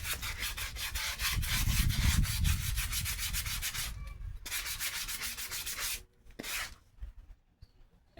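Intake manifold being scuffed by hand to roughen it before painting, fast repetitive rubbing strokes close by, loud and steady at first, then breaking into shorter scrapes with pauses.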